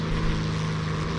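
A fast, heavily armed propeller fighter plane in War Thunder gives a steady, loud droning engine hum with no breaks.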